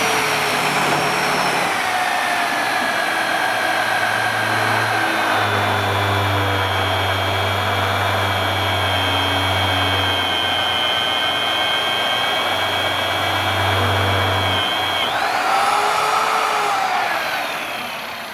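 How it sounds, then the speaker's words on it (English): Magnetic drill cutting a hole in steel, a loud steady motor whine with a sustained low hum that drops away briefly, holding constant before a rising tone near the end. "activate our drill."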